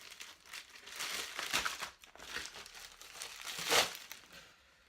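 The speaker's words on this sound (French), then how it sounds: "il y a de la mousse, donc finalement ça se coupe pas très bien au ciseau" Scissors cut through foam packaging material, giving several close crinkling, crunching snips in irregular bursts, with no talk over them.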